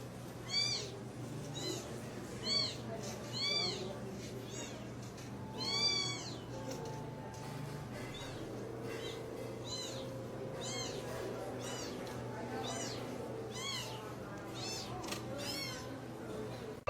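A pet cat meows again and again in short, fairly faint calls over a steady low background hum, with brief pauses between meows.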